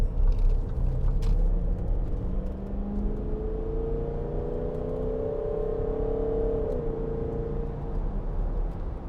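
2012 Range Rover 4.4 TD V8 diesel pulling away hard from a standstill on a runway, heard from inside as a deep steady engine rumble with a slowly rising drone, fairly muffled, no talk.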